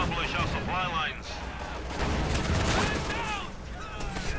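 Machine gun fire in the World War II strategy game Company of Heroes 2, with an MG42 firing among a busy battle mix of gunfire and explosions, continuous and loud, while a commentator talks over it.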